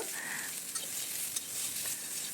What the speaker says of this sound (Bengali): করলায় খুব সামান্য হলুদ এবং স্বাদ মতো নুন দিয়ে ভেজে নিলাম